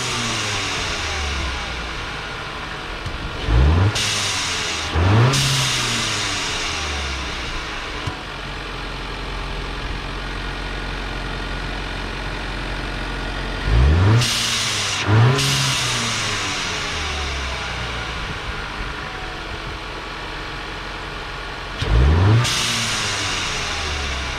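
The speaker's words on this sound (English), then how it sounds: "that was how the Steeda blow-off valve adapter sounds from the outside" A Ford Mustang EcoBoost fitted with a Steeda blow-off valve adapter, recorded from outside the car: a steady idle broken by three loud revs, each ending in a sharp release from the blow-off valve before the engine settles back to idle.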